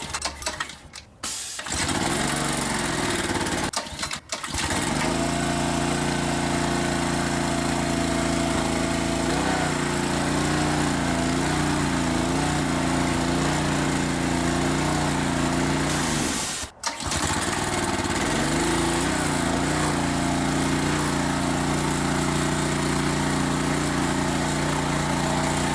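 A Honda engine runs steadily as it warms up, a loud, close, continuous drone at an even idle that breaks off briefly a few times before resuming.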